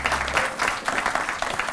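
Audience at a professorial inauguration ceremony applauds warmly, a steady mass of clapping hands filling the hall at even loudness, with a brief low hum at the very start.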